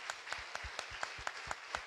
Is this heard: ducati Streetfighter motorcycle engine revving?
no